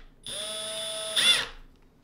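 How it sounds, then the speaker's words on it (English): An electric drill spins up with a pinewood derby wheel and axle chucked in, giving a steady high whine for about a second, then a brief rising whir before it winds down, close and isolated. "We're gonna chuck this up in a drill."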